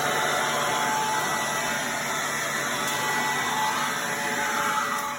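A small air blower clears crud off cardboard on a shop floor during exhaust removal from a Fox Body Mustang, making a loud, steady, close rushing hiss that holds level for several seconds.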